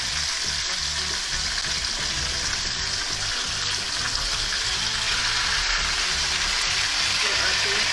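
Tilapia fish frying in a pan, a loud, dense and continuous sizzle with steady crackle that holds evenly for the whole stretch, close by and unbroken.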